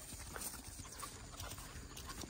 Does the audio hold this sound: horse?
yes